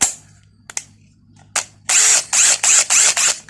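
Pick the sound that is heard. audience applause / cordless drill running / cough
cordless drill running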